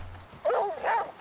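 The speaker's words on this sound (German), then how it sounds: "Oh ja, das ist der Wolf." A wolf in The Flame in the Flood video game gives two short, whining, growl-like vocalisations in quick succession, moderately loud and close, with no speech over them.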